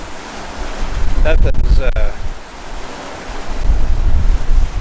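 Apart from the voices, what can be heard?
ocean waves behind a catamaran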